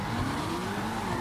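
An Annis Euro car in GTA Online drifts with a brief, continuous tire squeal over a loud engine drone.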